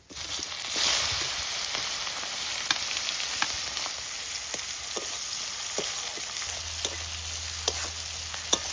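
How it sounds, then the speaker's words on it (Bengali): Chopped onions fry in hot oil, heard as a loud, steady close-up sizzle with scattered clicks of a spatula stirring, and no voices. "এবার কুচানো পেঁয়াজ দিচ্ছি"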